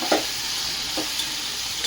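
Steady frying sizzle with a few scraping knocks of a spoon stirring in a pan, close and continuous.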